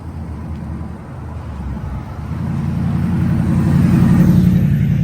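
A car approaches along the road at night, its low rumble growing steadily louder and closer over several seconds.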